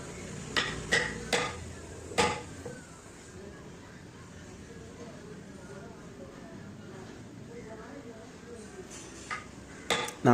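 A chisel is tapped into wood while carving a Chettinad-style stepped design, with a handful of sharp, clacking strikes early on and a couple more at the end. Between them is a quieter stretch where a person talks.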